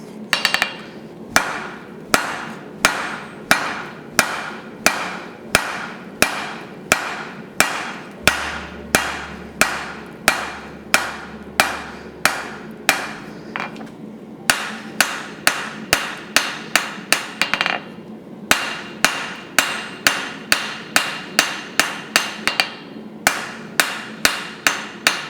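A blacksmith hammers hot steel into a short taper for a forged leaf, with loud, sharp, evenly spaced blows ringing in a steady rhythm, a few brief pauses breaking the run of strikes.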